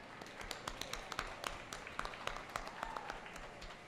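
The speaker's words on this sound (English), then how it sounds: "Let's give her another round of applause." An audience at a dance ground event claps for a princess, a steady patter of applause from a crowd with sharper individual claps standing out, moderately distant and continuous.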